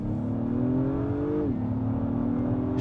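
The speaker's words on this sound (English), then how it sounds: "Let's see how that turbocharged V6 does." An Acura MDX Type S with a turbocharged V6 accelerates with a loud, steady engine drone rising gradually in pitch, then dropping as a quick gear shift cuts in before the climb resumes.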